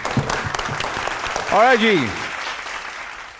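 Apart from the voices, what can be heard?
applause from the audience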